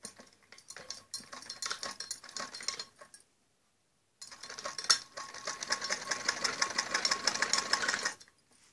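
A sewing machine stitching padded blouse fabric runs in short rapid bursts with a quiet pause of about a second in the middle, then one longer steady run, fairly close and moderately loud.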